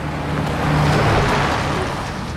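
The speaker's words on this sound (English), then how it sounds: "The trucks keep driving by." Traffic on a road in a TV drama, a loud vehicle passing close by with a broad engine and tire rumble that swells and then fades, no talk over it.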